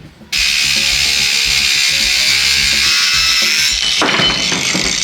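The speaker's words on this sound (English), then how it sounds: "pulled out the angle grinder for that" An angle grinder trims a metal rail for a shed barn door, starting abruptly into a loud, sustained high whine that shifts in tone near the end.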